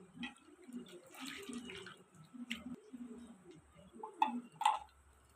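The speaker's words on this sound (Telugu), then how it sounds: "వేడి వాటర్ వేసి ఉప్పు వేసి నీట్గా కడిగి పెట్టుకోవాలి." Tap water runs intermittently while small fish are washed in a kitchen sink with hot water and salt, with soft splashing, a few sharper clinks near the end, and low handling sounds throughout.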